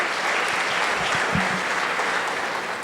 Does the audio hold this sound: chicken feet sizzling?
no